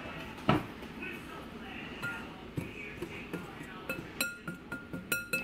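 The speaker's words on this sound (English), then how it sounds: "Just gonna whisk that." Whisking in a bowl gives a quickening series of light metallic clinks and taps, faint at first and building into a regular rhythm, with a voice speaking over the clatter.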